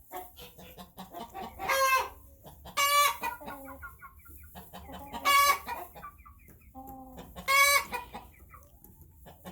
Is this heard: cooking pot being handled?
no